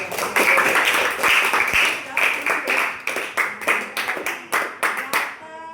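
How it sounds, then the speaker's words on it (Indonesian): Students in a classroom break into applause that starts as dense clapping, then turns into rhythmic unison claps that taper off, with voices audible among them. "Aplaus untuk Pamru."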